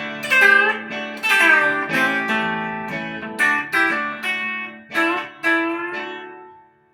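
An electric guitar plays a Bakersfield-style country intro imitating pedal steel, with bent notes that slide up into pitch and ring over chords. Several phrases follow one another, played close and clear with no talking.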